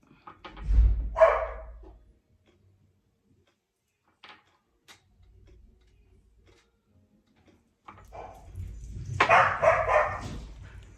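A dog barks a couple of times nearby, with a long quiet stretch between the bursts.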